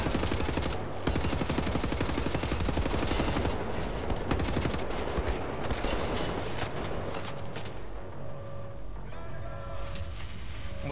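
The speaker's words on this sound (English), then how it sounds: "What's shooting me from over there?" Rapid automatic gunfire from the video game Wolfenstein: The New Order rattles loudly in dense bursts for several seconds, then eases into scattered shots and a lower rumble.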